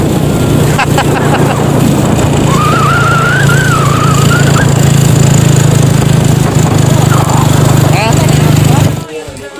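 A motorcycle engine runs loudly and steadily while riding on a road in Siquijor, with a brief whine partway through and the sound cutting off abruptly near the end.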